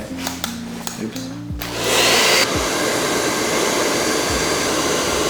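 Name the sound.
hair dryer running to fix a 1953 camera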